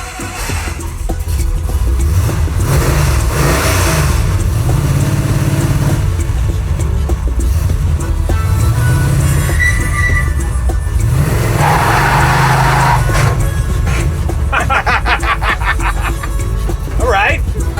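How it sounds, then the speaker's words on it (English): A vintage circle-track Dodge Charger roars through a loud burnout, its engine revving up and down in repeated surges with tire noise, while people talk and cheer over the din. "You just did a burnout, too."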